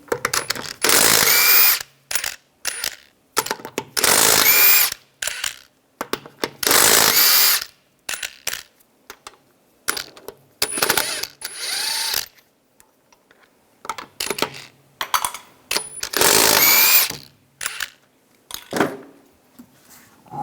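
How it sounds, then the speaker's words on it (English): A 21mm socket wrench ratchets loose the wheel lug nuts on a 2003-2008 Infiniti FX35, in repeated bursts of fast clicking with short pauses between them, loud and close with no talking. "Using a 21mm socket, take the lug nuts off."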